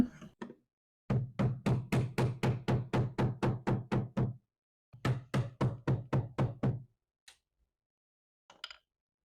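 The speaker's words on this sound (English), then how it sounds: "I'm going to pry this off and hope that this whole base doesn't fall apart" Sharp, rapid rhythmic knocks on a wooden dresser base as trim is pried loose, two long evenly spaced bursts separated by a pause, close and fairly loud, followed by a couple of faint scattered taps.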